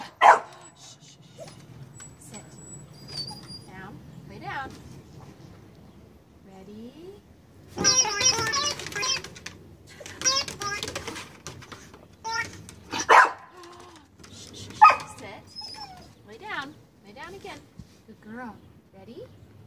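A young female dog barks in several short, sharp bursts and yips between quieter stretches, close to the microphone, with people talking around her.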